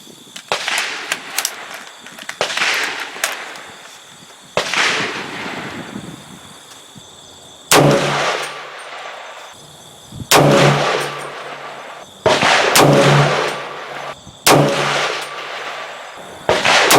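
A 300 Blackout rifle fires 110-grain hunting loads charged with Lil Gun powder, about eight sharp, loud, separate shots spaced a second or two apart, each cracking hard and then ringing out.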